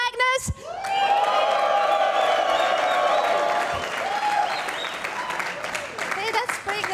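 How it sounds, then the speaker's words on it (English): A live audience at the London Speed Chess Championship final between Magnus Carlsen and Alireza Firouzja bursts into loud, sustained cheering, screaming and applause that swells after a brief pause, then slowly tapers off. "Can I please hear for Team Magnus and for Team Alireza, your loudest ever scream"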